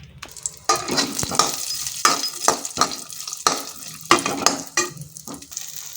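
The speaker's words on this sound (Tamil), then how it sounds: "கார கொழுக்கட்டைக்கு வெங்காயம் பச்சை மிளகா கடுகு கருவேப்பிலை உளுத்தம் பருப்பு தாளித்து கார கொழுக்கட்டை செய்ய போகிறோம்" Onion, green chilli, mustard seeds, curry leaves and urad dal tempering in hot oil in a pan, a steady sizzle broken by repeated scraping stirs of a spoon against the metal, close and fairly loud.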